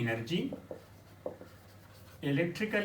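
Writing on a board during a chemistry class on electrochemistry: a few short, scratchy strokes close by in a pause between stretches of someone speaking.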